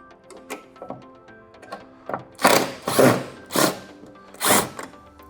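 Screws being backed out of a plastic blower housing in a heating and cooling unit, heard as several close bursts of whirring tool noise with short pauses between them and faint clicks and handling sounds in the gaps.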